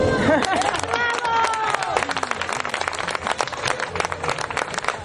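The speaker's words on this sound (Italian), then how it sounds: "Vai con l'applauso." A live concert crowd at an outdoor show in San Salvo bursts into dense, sustained applause, many hands clapping in a steady wash with some voices and cheers mixed in near the start.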